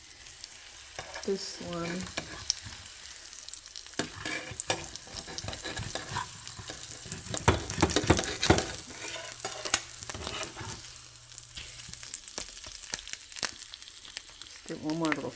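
Tacos fry in a hot pan with oil, giving a continuous crackling sizzle punctuated by sharper spits and pops as they are turned, while a person talks intermittently over it.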